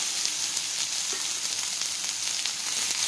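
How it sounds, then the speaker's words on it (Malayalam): About 100 grams of chopped bitter gourd frying in a little hot coconut oil, a steady close sizzle and crackle with faint stirring, no voices over it. "ഇനി ഒരു 100 ഗ്രാം പാവയ്ക്ക നുറുക്കിയത് ഇതിലേക്ക് ഇട്ട് കൊടുക്കുക."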